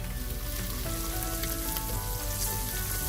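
Onions browning in a pan for a beef shank coconut cashew korma, a steady close sizzle and crackle of frying holding at an even level throughout, with no talk.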